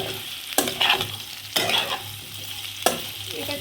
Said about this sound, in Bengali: এটাকে প্রথমে আমাকে একটু কিছুক্ষণ ভাজা ভাজা করে নিতে হবে।